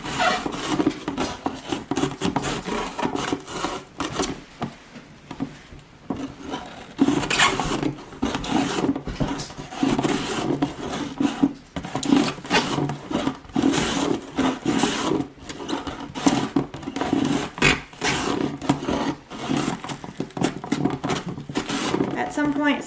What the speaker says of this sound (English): So this is a mandolin. I use this for my onions.